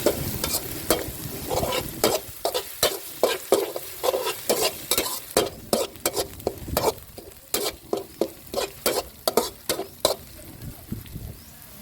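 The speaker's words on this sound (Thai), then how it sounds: "แล้วก็นำพริกกับกระเทียมลงมาผัดให้หอมนะครับ" Chilies and garlic stir-fried in a wok with a little oil: a steady sizzle broken by quick, rhythmic scraping strokes of a spatula against the pan, repeated dozens of times and fairly close.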